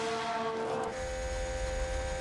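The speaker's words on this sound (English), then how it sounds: "Listen to that engine purr with that normal ERS." Formula 1 car engine in the F1 Manager 2022 racing game, running on normal ERS mode: a steady, sustained engine drone with a tonal whine, heard continuously and fairly loud with no talking.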